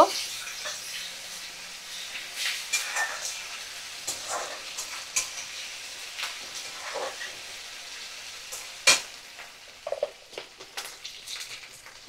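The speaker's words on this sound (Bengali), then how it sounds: "দিয়ে ভালো করে আমি সমস্ত মশলা একটু নাড়াচাড়া করে নেব।" A spoon stirs spices, green chillies and tomato frying in a pan, making soft intermittent scrapes and light sizzling with a few sharp clinks against the metal.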